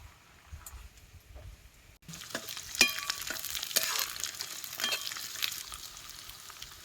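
Green peas and onion sizzle in hot oil in a village kitchen, a soft steady crackle that grows busier after the peas go in, with occasional scraping stirs close by.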